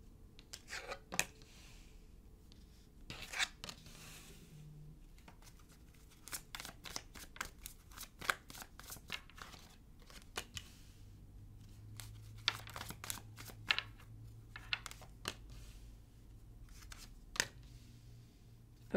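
Tarot cards shuffled and drawn from a deck, a long run of quiet, crisp riffles and soft slaps in irregular bursts, close to the ear with a low hum underneath and no talking.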